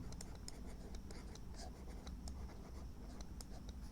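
A pen scratches out numbers on paper while someone works a maths problem. Short, quick strokes come in a steady series, close and fairly quiet over a low background hum.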